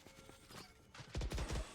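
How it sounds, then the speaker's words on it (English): Player footsteps in the video game Valorant, a quick run of soft, rhythmic thuds near the end of a short stretch of quiet game ambience. "Austin can hear the footsteps."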